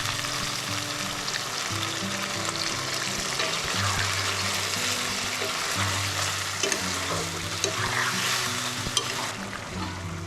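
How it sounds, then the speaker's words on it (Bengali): Pepper chicken frying in oil after a cup of hot water is poured in, giving a steady close sizzle with stirring and bubbling throughout and no voices. "তো এখানে আমি 1 কাপ গরম জল অ্যাড করব।"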